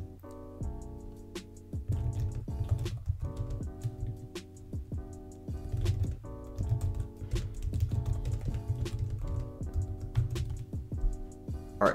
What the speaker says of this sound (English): So let's go and type out a sentence real quick.